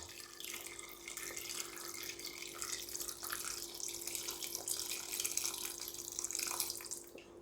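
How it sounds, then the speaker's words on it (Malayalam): Water is poured into a pot of grapes to make boiled grape juice. The stream splashes and trickles steadily and continuously at close range, with no voices. "ഇനി നമുക്ക് ഈ മുന്തിരിയുടെ നെകക്കെ വെള്ളം ഒഴിച്ചു കൊടുക്കാം."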